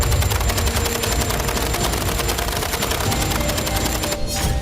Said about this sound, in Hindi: दोनों तरफ से जबरदस्त गोलीबारी हो रही है।